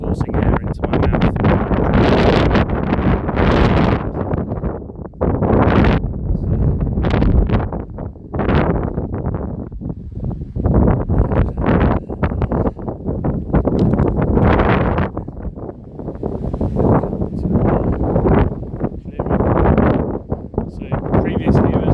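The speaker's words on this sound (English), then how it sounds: "This wind is really strong" Strong wind gusting hard against a microphone outdoors near a village entrance, loud buffeting roars and rumbles surging and easing continuously, close and overwhelming.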